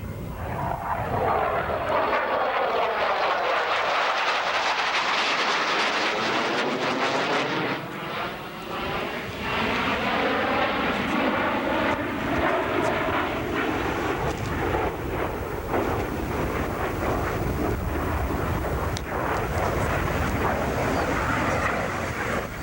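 Thunderbird jet aircraft flying over an airfield at about 3,000 feet, its loud continuous engine roar swelling and sweeping in pitch as it passes overhead, filling the whole stretch with no talk.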